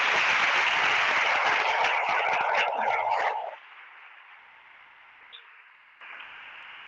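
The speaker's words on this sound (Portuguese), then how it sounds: "Eu quero que você aplaude Jesus." Congregation applauding during a church sermon, a dense burst of clapping for about three and a half seconds that cuts off abruptly, leaving a thin band of hiss behind.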